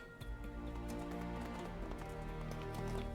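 Horse hooves gallop in Minecraft, a quick, rhythmic clip-clop of steady beats running throughout at moderate, even loudness over a faint background music bed, with no speech.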